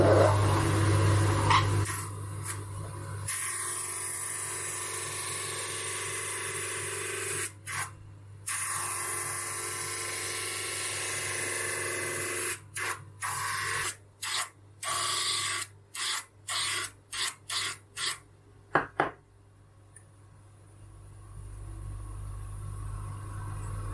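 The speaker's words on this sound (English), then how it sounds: "I'm gonna do it on the side of my drum sander" A drum sander works a guitar part against the side of its sanding drum, a steady near whirring rumble broken by repeated short bursts of contact as the piece is pressed on and pulled away.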